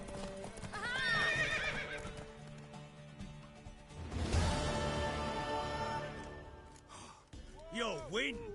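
Horse in The Witcher 3 video game, with hooves clip-clopping and loud, drawn-out neighs and whinnies up close, a breathy gasp between them, and no talking over it.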